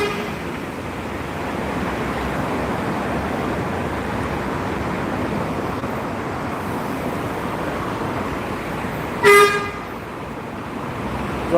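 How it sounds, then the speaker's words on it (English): At a Gloucester bus station, Scania buses pull out over a steady wash of traffic rumble, and one short, loud horn toot rings out near the end. "we've got loads of toots, meaning that loads of buses are now leaving"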